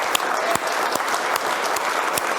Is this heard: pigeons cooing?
no